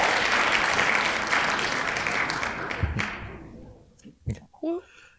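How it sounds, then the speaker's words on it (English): A round of applause from a small group fills the start, dense clapping that gradually thins and fades out, followed by a few scattered sounds and brief speech at the end. "I think we deserve a round of applause for that."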